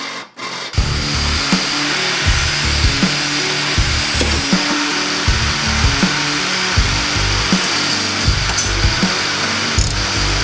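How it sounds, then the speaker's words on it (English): Power drill boring holes into metal under a school bus during a conversion, a loud continuous grinding whine with rhythmic pulses, close by and steady for the whole stretch. "Brian's gonna finish up drilling these holes so we can start to hang these puppies"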